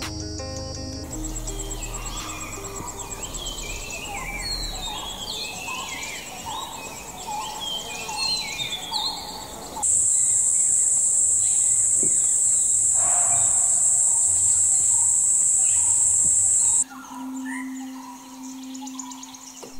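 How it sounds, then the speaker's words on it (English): Jungle ambience in Kanha National Park, India, a dense steady bed of insects and calling birds, with a harsh gobbling, fowl-like call early on and a loud high insect drone taking over midway, with no voices. "listening to nature, exotic birds and creatures without the sounds of traffic or city life"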